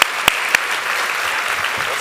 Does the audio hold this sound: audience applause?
yes